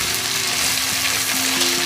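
Ginger paste hisses steadily in a hot pan as it is stirred and sautéed, a close, continuous sizzle with no voices.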